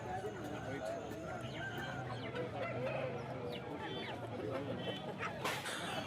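Roosters and hens cluck and call at a crowded hen market in Kundarapalli, Krishnagiri, Tamil Nadu, faint and scattered under a constant murmur of people talking nearby.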